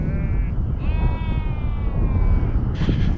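A sheep bleats at a Warwickshire farm caravan park, two drawn-out wavering calls close by over a steady outdoor background hum.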